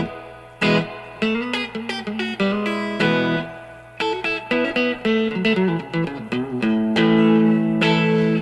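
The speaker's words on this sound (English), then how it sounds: "It's got that nice telly tone on the neck pickup right there." Fender Nashville Telecaster electric guitar played on its neck pickup with reverb, bright plucked notes and strummed chords ringing out alone, clear and close with a wet decay.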